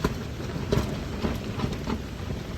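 Steady typhoon rain hisses in a constant wash over a car campsite awning in Palauig, Zambales, with low rumbling underneath and a few soft thumps.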